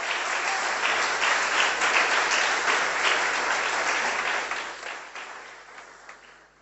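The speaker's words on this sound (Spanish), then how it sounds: "¿Cuántos baten palmas para Jesús?" A church congregation at an evangelical Pentecostal service claps for Jesus, a dense, sustained burst of applause filling the room before tapering off toward the end.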